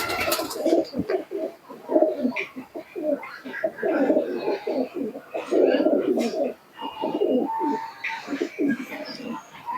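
Pigeons, a female among them, coo loudly and close by in overlapping throaty rolls with brief pauses between bursts.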